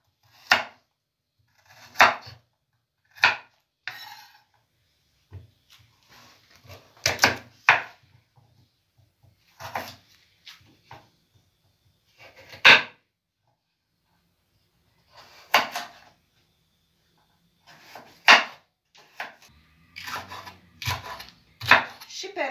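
Knife chopping bell peppers on a wooden cutting board while preparing veal goulash with potatoes, heard as sharp, separate knocks at an irregular pace that cluster into quicker runs near the end, close and alone.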